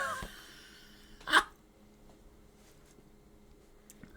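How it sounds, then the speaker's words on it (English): One hard, sharp sneeze bursts out suddenly and loudly, then quiet breathing and faint background noise follow. "Oh, I gotta sneeze."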